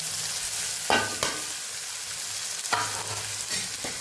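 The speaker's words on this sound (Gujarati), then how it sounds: "અહીં આપણે ડુંગળીનો વઘાર કરી દઈશું" Sliced onion crackles and sizzles steadily in hot oil tempered with cumin, asafoetida and curry leaves, with four short scraping stirs of a spoon in the pan for a Kathiyawadi sev tameta curry.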